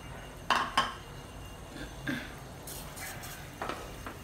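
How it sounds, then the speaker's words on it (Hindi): Vermicelli tipped into a pot of mince and water, heard as a few sharp metallic clinks and knocks of utensils against the pot, spaced irregularly over a quiet background. "और जो ये सिमाई रखी हुई हैं अब हम डाल देंगे ये।"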